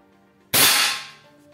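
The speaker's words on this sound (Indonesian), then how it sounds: "itu saya coba nembak yang bawah pas di tengah ya" A single sharp gunshot fired at a target, loud and close, with a crisp crack that decays over about half a second against a quiet background.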